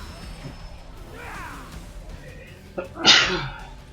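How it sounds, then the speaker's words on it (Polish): A single loud, sharp human sneeze bursts out near the end after a quiet stretch of low background noise. "I znowu kicham."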